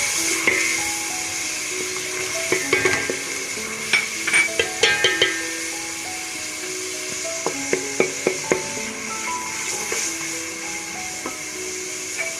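Ginger-garlic paste and chopped ginger frying in a pan of hot oil for chana pulao, a steady sizzle with scattered stirring scrapes and light clinks throughout.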